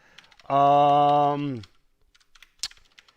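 Soft, scattered keystrokes tap on a computer keyboard before and after a brief hummed voice sound.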